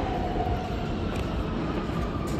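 Steady, loud rumble of a train ride from inside the carriage, a continuous low roar of wheels and motion with a faint high hiss and no talking.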